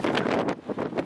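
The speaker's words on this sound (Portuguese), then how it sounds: "Não sei se tá dando pra ouvir, porque tá muito vento." Wind gusts buffet the microphone outdoors in Holyrood Park, making a continuous rough, roaring rumble that swells and dips over a second, with no voices.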